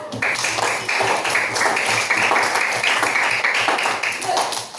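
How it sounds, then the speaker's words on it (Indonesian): Students clapping together in a classroom, a brisk, fairly loud burst of overlapping claps with a rough rhythm, lasting several seconds before tapering off. "Tepuk tangan. Yang semangat, yang keras."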